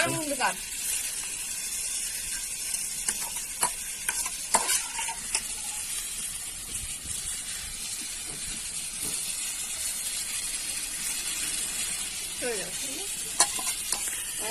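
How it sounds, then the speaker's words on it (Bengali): Potatoes fry on an outdoor clay wood-fired stove, a steady close sizzle and hiss running throughout with occasional stirring scrapes and clinks, and brief voices now and then. "এটা নতুন সিস্টেম আলু ভাজা হচ্ছে তো"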